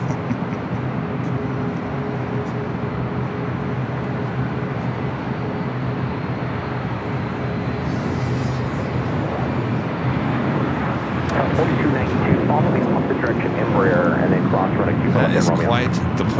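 An airliner pushing back at LAX airport gives off a steady, broad engine rumble with a faint tonal hum, swelling slightly louder and gaining a rising whine toward the end.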